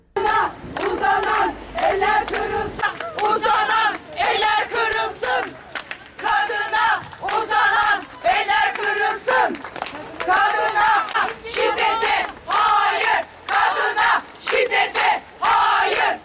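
Mourners at a funeral in Turkey protesting violence against women chant slogans in unison, rhythmic repeated bursts from a large crowd of voices with brief gaps between phrases, loud and sustained over many seconds.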